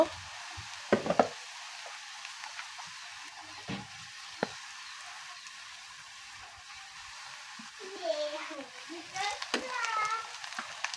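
Ginger garlic paste fries in a pan with onions already browned. A soft sizzle runs under a few clattering stirs and scrapes, and a voice is heard faintly toward the end.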